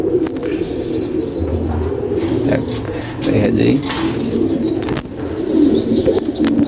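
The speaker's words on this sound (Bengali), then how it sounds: "একটা গুল্লা কবুতর" A Gulla pigeon coos in low, repeated rounded calls at close range, with soft bird sounds around it and someone talking over the cooing.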